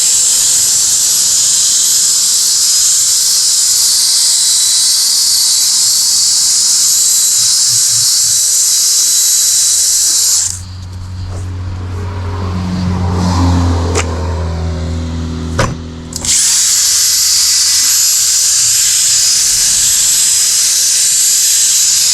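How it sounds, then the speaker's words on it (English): A steam cleaner works on a car's interior carpet, giving a loud, constant high hiss close by. The hiss cuts out for several seconds while lower mechanical humming takes over, then starts again just as strongly. "I had to come back with the steamer to get that."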